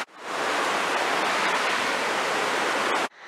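Loud, steady rush of a mountain stream flowing just below a waterfall near a small bridge, a dense continuous roar that cuts off abruptly at the end.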